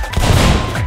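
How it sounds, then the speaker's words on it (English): Bombs exploding in the video game Rounds, a single dense, loud rumbling blast filling the short moment with no talk over it. "Bombs!"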